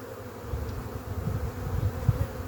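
Honeybees from an artificial swarm hum in a low, steady buzz, close by and moderately loud throughout.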